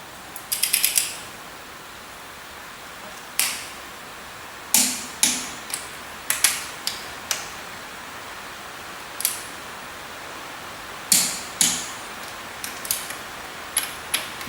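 Ratchet torque wrench tightening bolts on a Ferguson TEA20 tractor, giving short bursts of sharp clicking ratchet strokes with pauses between them, close and fairly loud with no talking.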